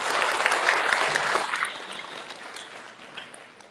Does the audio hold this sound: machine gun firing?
no